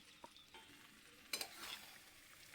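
Chicken pieces going into a small wok (kadai) of oil over a low gas flame, giving a soft sizzle with scraping stirs and a brief louder burst of frying near the middle, fairly quiet overall.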